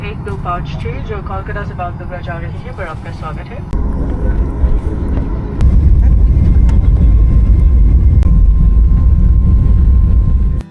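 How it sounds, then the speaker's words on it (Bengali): People talk at first, then a loud, low airplane engine roar fills the cabin, surging up in two steps as the plane departs. "তারপরে একদম নির্দিষ্ট সময়ে আমাদের প্লেন ছেড়ে দিল"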